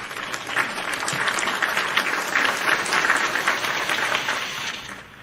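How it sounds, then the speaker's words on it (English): Applause greeting guest Evil Ghost on a live wrestling talk show. Dense, even clapping holds steady for several seconds, then cuts off abruptly at the end. "Evil Ghost, round of applause."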